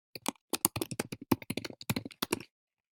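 Quick, irregular taps on a computer keyboard, close and crisp, with short pauses between bursts of keystrokes, ending abruptly in silence.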